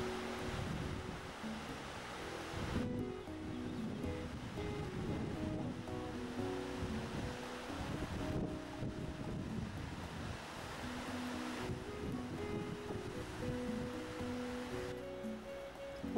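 Water flows steadily at one of the springs of the Krčić, a small river below Mount Dinara in Lika, Croatia, in spring. A continuous rushing wash, close and fairly loud, runs throughout with no voices.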